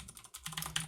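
Quick keystrokes on a computer keyboard while code is entered for a beginner C# tutorial, close and clear with an irregular clatter that steadies after a brief pause.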